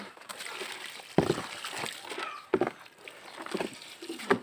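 Water is poured and splashed from a dipper (tabo) on a farm, producing irregular close sloshing bursts and spatters between quiet gaps, with faint voices at times.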